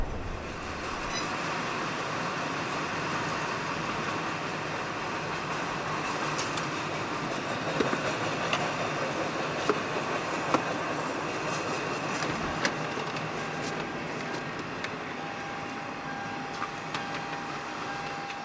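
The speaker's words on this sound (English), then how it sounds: "That train is CSXQ363 from Wide World of Trains on YouTube." A long CSX freight train rolls steadily past, a continuous loud rumble of railcars and wheels with occasional squeals and clanks throughout.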